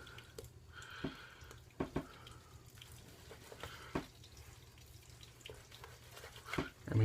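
Small splashes and drips of water added to shaving soap lather, heard faintly and close by as scattered wet taps and squishes over a low hum.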